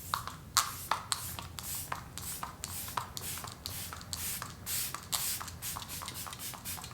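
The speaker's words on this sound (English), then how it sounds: "It does have a very ultra fine mist, which is nice." Quick repeated hissing bursts of a fine mist spray, a dozen or more short pumps in uneven rhythm, close up.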